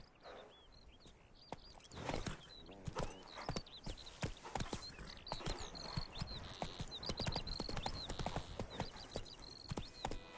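The horse Roach galloping in the video game Witcher 3, rapid rhythmic hoof clip-clops pounding steadily and close, with a faint whinny and birdsong in the background.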